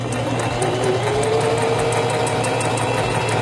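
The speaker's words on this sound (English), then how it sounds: "Release the reverse lever and sew along your seam." A sewing machine runs steadily, stitching a seam through fabric with a continuous close mechanical hum and fast, even needle ticking throughout, with no voices.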